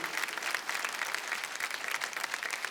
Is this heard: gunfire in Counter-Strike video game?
no